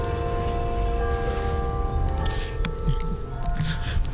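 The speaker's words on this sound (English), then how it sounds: "Another bell, you can hear it in the background." A church bell rings in the distance across a city street in Macon, Georgia, its steady tone faint beneath a constant low rumble of street ambience, with no talking.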